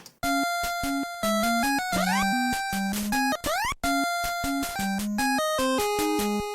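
Chiptune-style video game music jumps abruptly between fragments, cutting off and restarting mid-phrase with sudden pitch slides, loud and continuous with brief gaps.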